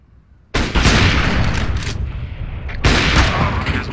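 Gunfire in the battle royale video game PUBG, loud dense bursts of shots erupting suddenly and rattling continuously, with a second heavy volley near the end.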